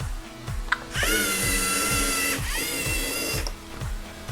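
LEGO Mindstorms EV3 robot motors whir loudly and steadily during a gyro-sensor turn, a close mechanical whine rising and holding for a couple of seconds between rhythmic clicking, no talk.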